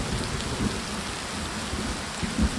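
Steady heavy downpour drenching a vineyard, a dense continuous hiss of rain with low rumbles of thunder swelling beneath it, no voices.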